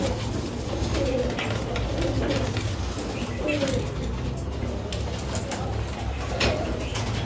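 Pigeons coo softly in low, rolling calls, repeating several times over a busy background with faint voices nearby.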